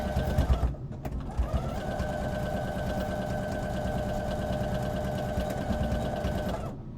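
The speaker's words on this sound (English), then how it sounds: "I'm going to just take this over to my machine quick, and I'm going to sew with a 1/4-inch seam allowance" A sewing machine runs steadily, stitching a quarter-inch seam on fabric for a fabric box, a loud continuous mechanical whir lasting several seconds after a brief start and short pause, then stopping.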